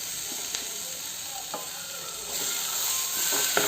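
Boiled mixed beans and seeds, including rajma and peanuts, hit a hot pan and sizzle steadily, with a few soft clicks of stirring and the frying growing slightly louder toward the end.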